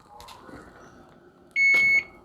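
A single high electronic beep from a kitchen timer sounds for about half a second against a quiet kitchen with faint background noise.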